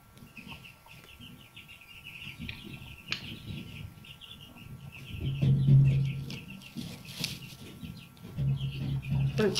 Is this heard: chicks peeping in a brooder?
yes